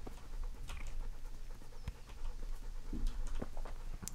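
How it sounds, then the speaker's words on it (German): A dog pants steadily in Kingdom Come: Deliverance, rhythmic quick breaths at a modest level under outdoor ambience with faint bird chirps, no talking. "Hund."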